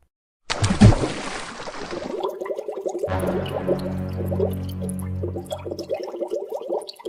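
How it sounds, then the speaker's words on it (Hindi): Cartoon splash and gurgling water effect as a character is dunked upside down into water, a loud burst of splashing followed by sustained bubbling and dripping liquid sounds. "डुबा दो इसे पानी में।"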